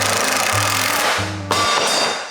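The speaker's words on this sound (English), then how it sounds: "Okay, now we just need to screw this side in. So I have washers and I have dome head screws." Power drill driving dome head screws with washers into the side panel of a closet, a close whirring drive in short repeated bursts, ending in a sharp knock.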